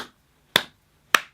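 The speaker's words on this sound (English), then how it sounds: "So I added this layer of claps," Sampled handclaps layered onto a drum beat, two sharp, dry clap hits about half a second apart, with the decaying tail of an earlier clap at the start.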